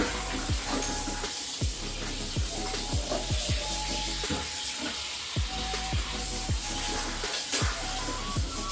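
Cool tap water runs steadily into a sink as food is washed, with a continuous splashing hiss and soft repeated knocks as items are handled under the stream.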